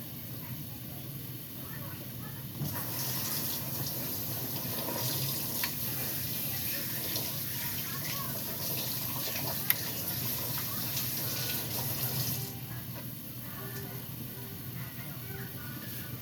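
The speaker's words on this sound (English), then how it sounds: "I'm gonna wash my hands." Hands are washed under a kitchen tap after handling marinated chicken, a steady rush of running water starting a few seconds in and stopping about ten seconds later, with soft background noise around it.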